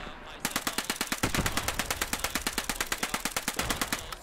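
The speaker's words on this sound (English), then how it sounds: "Machine gun, set up on the track and shoot." Sustained machine gun fire in the World War II shooter Post Scriptum during a rail bridge attack, a rapid even stream of sharp close shots lasting several seconds after a short lull.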